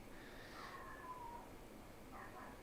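A house cat meows faintly, a drawn-out rising-then-falling call followed by a shorter second one, distant and low under steady background hiss.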